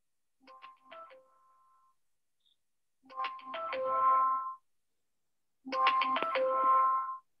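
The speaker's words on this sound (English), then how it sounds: "I don't know whose phone that is, but please turn it off or mute yourself." A phone ringtone interrupts an online lecture after a meditation class, playing as a tonal melodic burst that repeats three times with pauses between, moderately loud and with no talk over it.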